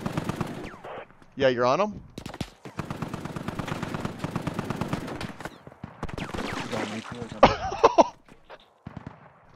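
Machine gun bursts in the SquadOps tactical shooter game, short rapid volleys cutting in around ongoing voice chat, with a couple of loud sharp bursts standing out near the end.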